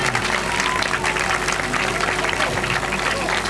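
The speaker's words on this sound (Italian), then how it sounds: "è doveroso fare un grande applauso a chi ha lavorato con fatica per far riuscire tutto ciò" An audience at an Italian village folk festival, the second 'Milena e le sue Robbe' gathering, claps in dense, continuous applause with a steady, crackling texture that fills the whole stretch.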